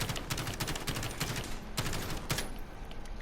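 Rapid bursts of automatic gunfire in a Call of Duty match, fired in dense volleys that run almost continuously, loud and close, with a short pause near the end.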